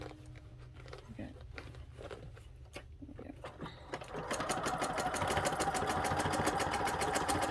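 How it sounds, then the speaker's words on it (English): A sewing machine stitching a mending patch over a rip in jeans, running in a fast, steady rhythmic whir after some quieter handling sounds, close and moderately loud. "This sewing machine actually has like a mending where it fills in, it goes up and down like this, and it makes a whole grid."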